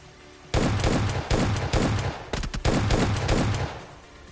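Repeated bursts of automatic gunfire in PUBG Mobile Lite gameplay, loud and close, coming in rapid volleys of several shots separated by short pauses, with no talking.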